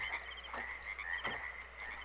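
Dense chorus of frogs and insects in the Channelwood swamp of the Myst video game, a steady high trilling drone with intermittent croaks pulsing through it, continuous and fairly quiet with no voices.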